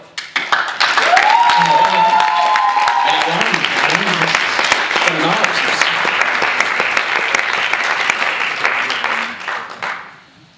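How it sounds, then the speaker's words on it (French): Loud, sustained audience applause fills a university student talent show hall in Quebec as a performer is welcomed, a broad wash of clapping with some cheering that swells and holds for about ten seconds before tapering off. "Alors, applaudissez-le bien fort."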